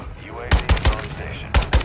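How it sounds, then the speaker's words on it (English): Gunfire in Call of Duty Modern Warfare 2 DMZ: loud bursts of close automatic fire, several sharp shots spaced through the brief moment. "Oh, I'm getting shot."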